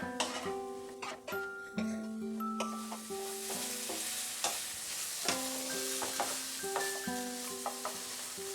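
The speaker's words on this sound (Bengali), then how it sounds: "ভালো করে মিশিয়ে নেব আর রান্না করব" Boiled soybeans being stir-fried into beetroot fried rice in a pan, with a sizzling bed of frying under repeated sharp clinks and scrapes of the spatula against the metal pan.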